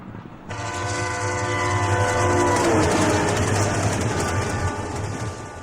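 A train runs on a railway with its horn sounding steadily in long sustained tones over loud rumbling wheels, close and alone with no talk.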